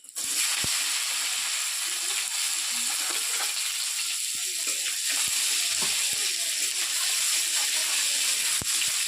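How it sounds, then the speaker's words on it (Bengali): Chopped tomatoes hit hot oil with whole cumin and curry leaves for a whole roasted cauliflower dish, giving a loud, steady frying sizzle throughout with a few sharp clicks and stirring scrapes. "গোটা জিরে এবার টমেটো কুচি দিয়ে দিই"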